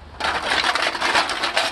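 Aluminum drink cans tumble into a household recycling bin in Korea, making a dense, bright metallic clatter that rattles on steadily for under two seconds, close and fairly loud.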